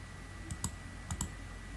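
Soft close keyboard clicks as 100 is typed and enter pressed on a computer keyboard during AutoCAD work, two quick pairs of faint taps against a quiet hum.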